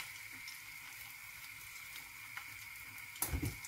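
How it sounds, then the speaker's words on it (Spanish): Potato wedges fry in a pan of plenty of hot oil, giving a quiet, steady sizzle with a few louder crackles and pops near the end. "Ahora pasamos a freír."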